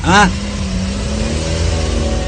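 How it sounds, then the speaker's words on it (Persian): A car engine drones steadily at moderate loudness after a brief rising chirp at the start, with a voice speaking over it. "شوکت رفیقم با ماشین خودش آمد."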